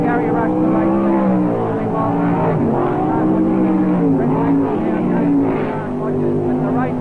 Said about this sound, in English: Gary Rush, the defending five-time national sprint car of a champion of Australia, doing it nicely out in front